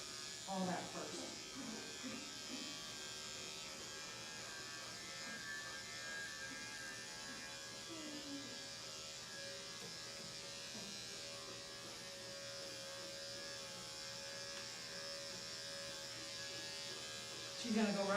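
Electric clippers give a steady, close buzz while shortening the fur on a dog's tail, humming continuously with a few faint voice murmurs at the very start.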